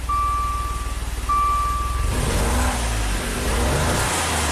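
A Maserati engine starts after a high whine and then idles with a steady, close, loud rumble, no voices.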